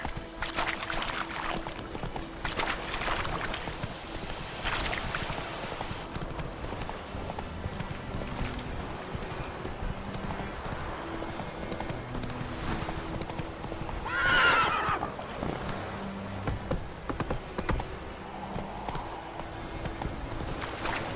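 A horse galloping and neighing in The Witcher 3: Wild Hunt, with steady, rapid clip-clop hoofbeats over ambient game noise and a whinny partway through. The sounds are moderately close, with no talk.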